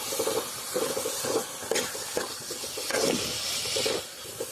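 Onion, carrot, tomato and green chilli sizzle in a hot pan while a spoon scrapes and stirs them in repeated strokes, close and steady, with no voices.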